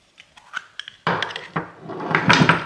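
The lid is worked off a tiny antique desk oil lamp: a few light metallic clinks and taps, then a louder scraping, rattling lift as the cover comes free, all close and without talk.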